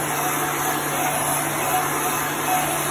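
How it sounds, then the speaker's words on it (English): An industrial heat gun runs steadily to dry chalk paste, giving a continuous loud blowing whoosh with a constant motor hum and high whine, unbroken for the whole stretch. "So I'm gonna dry this with a heat gun. This is an industrial heat gun."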